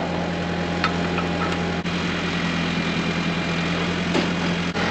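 A tractor idles on a farm beside a squeeze chute with a steady, low engine rumble. The drone is even and continuous and nobody speaks over it.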